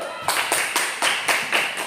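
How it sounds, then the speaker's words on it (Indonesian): A small audience at a teachers' information session in a school claps in unison, about eight sharp, evenly spaced beats in a steady rhythm, fairly close and loud in a room. "Oke, tepuk tangan dulu."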